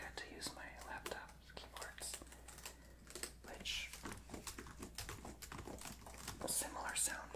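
Laptop keys are pressed in quick, irregular bursts of close, crisp clicks and taps, with soft whispering running over the typing throughout.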